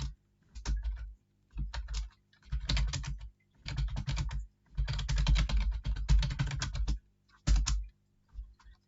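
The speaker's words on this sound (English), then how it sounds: "start typing what I want to type." Fingers type on a computer keyboard in bursts of rapid clicking keystrokes separated by short pauses, close and fairly quiet.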